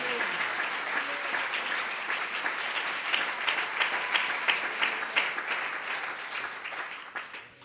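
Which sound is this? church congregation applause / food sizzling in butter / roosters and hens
church congregation applause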